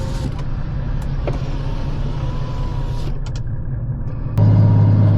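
A 1995 Mercedes E300 turbo diesel climbs a hill slowly in second gear. It gives off a steady low engine rumble throughout, which grows noticeably louder and deeper near the end.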